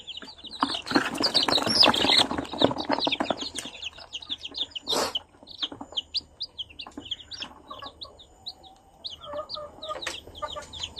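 Three-day-old Rhode Island Red chicks peep in a busy cluster of high, rapid chirps, dense at first then thinning into scattered separate calls, with occasional soft handling noises underneath.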